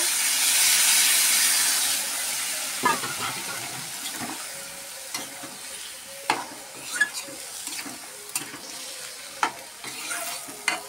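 Water poured into a cooking pot holding river fish rubbed with spices, a brief rush of liquid and steaming hiss at the start, then intermittent stirring clinks and scrapes, close and moderate in volume, with no talking.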